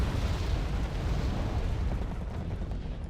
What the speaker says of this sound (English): Maraud's dropping in some bombs.